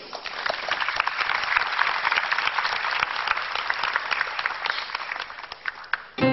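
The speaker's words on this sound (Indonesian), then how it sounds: "tepuk tangan yang meriah untuk pilihan Anda" Studio audience applause on a televised talk show, dense and lively clapping from a crowd, sustained at an even level for several seconds with no speech over it.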